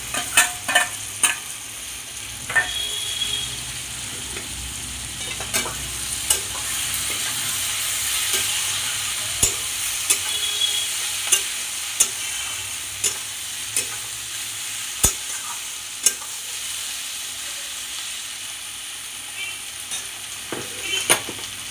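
Eggs fry and get stirred in a hot pan for egg chilli, giving a steady close sizzle broken by repeated sharp scrapes and clicks of the spatula, with no talking.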